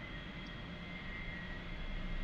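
A-4 Skyhawk jet engine in the flight simulator DCS, a steady broadband roar with a faint whine, moderately quiet and constant throughout, no talking.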